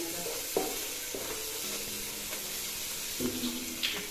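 Chicken pieces going into hot oil for Palakkad-style chicken biryani, a soft sizzle with occasional clinks and stirring knocks, fairly quiet and close.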